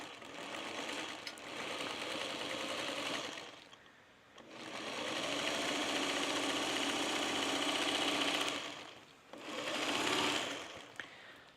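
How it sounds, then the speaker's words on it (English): A sewing machine stitches a quilting seam with a steady mechanical whir. It runs in long continuous stretches, with brief pauses between them, and no voice is heard. "I'm going to put this last seam on"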